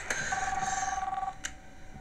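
A telephone rings in a film trailer: a short ringing tone sustains for about a second beneath a low rumble of music and ambience, with a couple of brief sharp accents around it.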